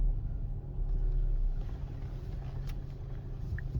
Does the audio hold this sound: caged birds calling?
no